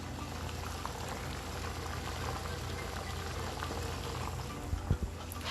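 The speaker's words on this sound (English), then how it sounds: "we have our hot boiling water" Water boiling hard in a pot on a stove, a steady, dense bubbling and rumbling with no one speaking, plus a couple of louder pops near the end.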